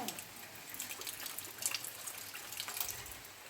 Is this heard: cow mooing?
no